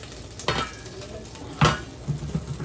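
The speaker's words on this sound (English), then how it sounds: "So we've got our solution boiling." A pot of pickling brine boils for canning pickles in an Appalachian kitchen, a steady close hissing bubble broken by a couple of louder clunks.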